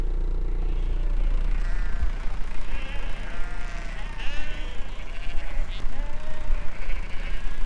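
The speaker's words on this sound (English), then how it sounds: "That is a big mob of sheep." A big mob of sheep bleats continuously, many overlapping calls near and far forming a steady chorus over a low rumble, with animals still moving past.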